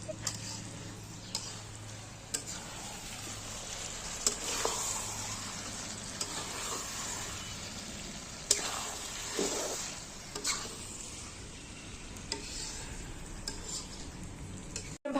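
Fish frying in a pan in a home kitchen during a Nabanna harvest feast, a steady close sizzle with occasional clinks of utensils and a low background hum.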